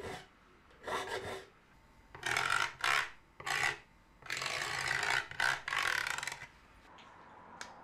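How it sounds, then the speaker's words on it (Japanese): A metal file rasps across handsaw teeth, sharpening them one by one in a series of short, gritty strokes with brief pauses between them, close and fairly quiet. "一つ一つの刃をヤスリで削って鋭角にします。"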